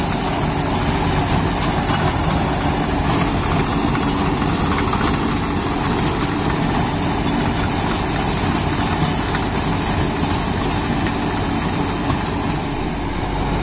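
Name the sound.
tractor running a Tusker rotavator in a banana field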